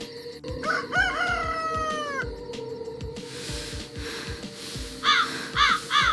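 A cartoon rooster crows once in a long, loud, rising-and-falling call over a steady background hum, followed by bursts of hiss and several short, bright chirps near the end.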